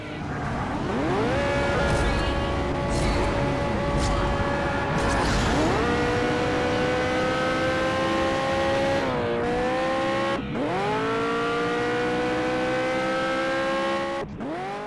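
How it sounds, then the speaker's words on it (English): Lamborghini Egoista engine from the racing game Asphalt 8, loud and continuous, with rising pitch sweeps as it revs through the gears and sharp drops at each shift, heard alone. "the Egoista was given this engine sound"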